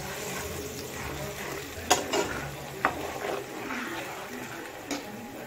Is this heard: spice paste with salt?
yes